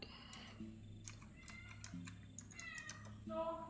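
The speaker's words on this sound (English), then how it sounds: "You activated the meow machine." A cat meow sound effect set off by a stream button plays as a short series of tonal meows over light computer keyboard typing, close and fairly soft, with a voice faintly in the background.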